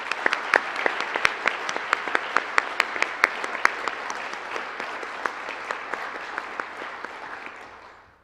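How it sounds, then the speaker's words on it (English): A room full of people at a university honors night applauding steadily, dense clapping that holds for several seconds before gradually fading out. "please join me in giving a bigger round of applause for all the candidates"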